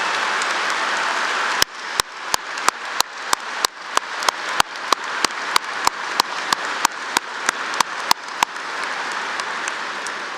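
Graduation ceremony audience applauding veterans at Fort Defiance High School's commencement in an arena, with a dense, steady wash of clapping punctuated by sharp, evenly spaced clicks throughout.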